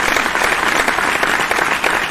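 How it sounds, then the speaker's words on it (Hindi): Audience applause at a Hindi comic poetry recital (kavi sammelan) in Alirajpur, Madhya Pradesh: dense, steady clapping from a large crowd, loud and continuous throughout with no talk over it. "आज तो मजे से प्यारे तालियां बजाइए"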